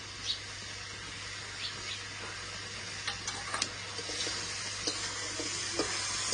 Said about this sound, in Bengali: টমেটো আদা রসুন ভালো করে কষিয়ে নেব